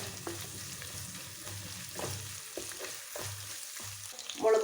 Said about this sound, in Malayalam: നന്നായിട്ട് മിക്സ് ചെയ്തെടുത്ത് മൂപ്പിച്ചെടുക്കാം